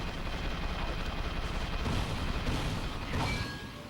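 Turret gunfire rattles in Ratchet & Clank: Going Commando, a dense, steady barrage of rapid shots and booming impacts layered over mechanical game noise, loud and continuous before tapering slightly at the end.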